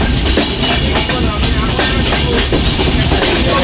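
Ekota Express train rumbling and clattering on the tracks as it approaches Natore railway station, a steady loud roll heard from on board.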